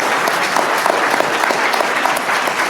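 Sustained audience applause fills an awards ceremony for NDTV Indian of the Year, a dense, steady wash of clapping from a large crowd with no pauses, loud and close throughout.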